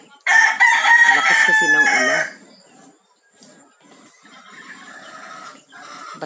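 A rooster crows once, loud and close, in heavy rain, followed by softer clucking and background noise.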